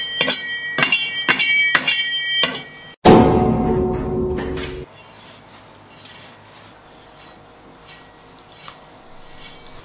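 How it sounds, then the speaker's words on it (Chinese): A knife scores cleaned yellow chili peppers on a cutting board: a run of sharp, close taps, then a louder scraping burst of about two seconds, followed by quieter handling noises. "清洗干净的黄辣椒给它打发刀"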